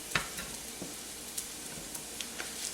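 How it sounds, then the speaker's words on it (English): Soft, steady sizzle of garlic frying in oil and starting to brown, a faint hiss scattered with small pops and crackles. "So now you can hear the garlic. The garlic is starting to turn brown"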